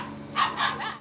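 Rottweiler puppies and their mothers give two or three quick, high barks or yips close by, over a low background hum, during a wildfire evacuation.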